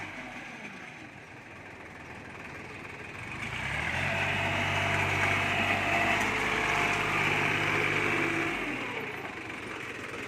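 A small 21-horsepower three-cylinder farm tractor engine runs with a steady, fairly loud, even hum that swells a few seconds in, holds, then eases back near the end. No one speaks.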